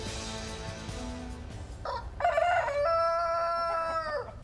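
Roosters crow loudly and close on a Pulaski County, Arkansas farm with more than sixty chickens, a long drawn-out cock-a-doodle-doo following softer clucking and earlier crowing, heard alone without talk.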